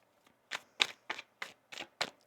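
Tarot cards shuffled by hand, a series of six crisp riffling snaps in a quick irregular rhythm, close and clear against silence.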